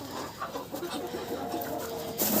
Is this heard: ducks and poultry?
yes